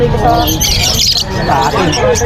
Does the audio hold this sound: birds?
yes